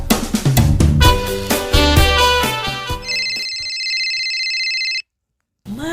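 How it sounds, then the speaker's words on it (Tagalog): A mobile phone rings on a table, its electronic ringtone tones sounding steadily and loudly after a stretch of music, then cutting off abruptly into silence. "itay pay lang agun unay ti cellphone mo di tarabaw ti lamisaan"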